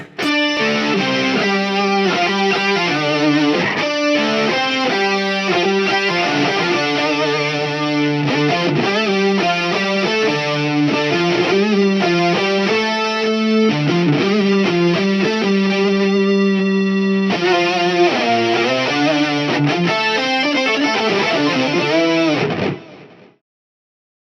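A distorted electric guitar solo through a Line 6 Helix Gallien Krueger tone plays continuously with heavy effects, melodic lines held and bent over a steady wall of sound, ending abruptly near the close.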